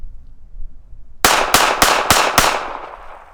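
Five rifle shots of Norma ammunition fired into dirt ring out in quick, evenly spaced succession, each a sharp loud crack with a short decaying tail, after a quiet start.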